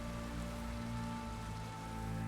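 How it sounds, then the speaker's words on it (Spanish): Rain falling in The Witcher 3: Wild Hunt, a steady, close, even patter on surfaces with a low constant hum beneath and no voices. "No, y está lloviendo."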